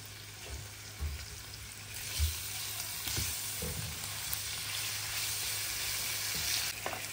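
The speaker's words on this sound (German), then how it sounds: "Und jetzt braten wir es mit Zwiebeln an" Onions frying in oil for a curry sauce, a close steady sizzle with occasional scrapes and knocks of stirring.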